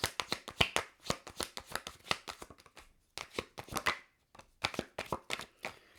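Tarot cards are shuffled up close in quick bursts of crisp, papery flicks, pausing briefly between runs, with no voices.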